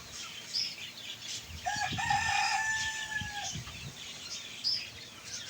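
Chickens and young chicks in a yard make a continuous low clucking and chirping, with one loud, drawn-out crow rising in the middle.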